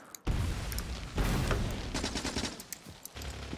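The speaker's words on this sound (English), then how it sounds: "There's also a cliff I can explode, yay, and some trees I can also explode" Explosives blowing up a cliff and trees in the Factorio video game: a dense run of crackling blasts and booming bursts, loud and close, that thins into scattered pops toward the end.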